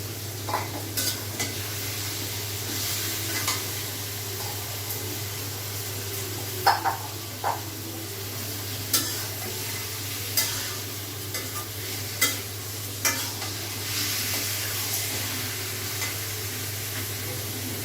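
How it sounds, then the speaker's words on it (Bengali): Chicken pieces frying dry in a pan without added water, a constant close sizzle broken by repeated sharp scrapes and clinks of a spoon stirring against the pan, with a low steady hum underneath. "এখন আমি মাংসটা দিয়ে দিচ্ছি মাংসটা আমরা ভাজা ভাজা করবো"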